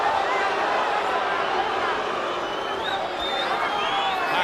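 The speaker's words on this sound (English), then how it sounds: "Pacquiao fans booing because they thought the punch was low" A large boxing arena crowd at Pacquiao versus Marquez makes a sustained, dense roar of disapproval as Pacquiao fans boo a punch they thought was low, a loud, continuous wash of voices with chatter woven in.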